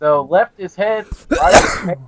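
A single sharp sneeze bursts out mid-conversation during a casual gaming session, loud and close, surrounded by ordinary talk before and after.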